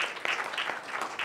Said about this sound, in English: you can please clap for those